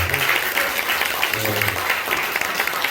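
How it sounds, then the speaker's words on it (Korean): An audience applauds in encouragement at a church inauguration and celebration service, with dense, sustained clapping throughout and a voice talking faintly underneath. "그 격려의 박수를 한번 쳐주시기 바랍니다."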